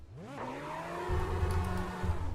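A race car's engine in the iRacing simulator revs up in quick rising sweeps, then holds a steady, buzzy high-pitched drone, with faint tire noise in the background.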